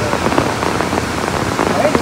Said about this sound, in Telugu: ఫుల్ వర్షం పడుతుంది, ఫోన్ తీయడానికి వస్తలేదు బయటికి.